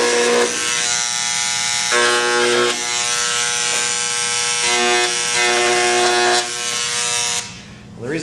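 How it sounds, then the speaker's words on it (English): A handheld engraver buzzes loudly and steadily while marking letters on a sheet metal tool box, the harsh vibrating drone shifting pitch in short bursts as it cuts each letter, then cutting out at the end. "I have to use the engraver there"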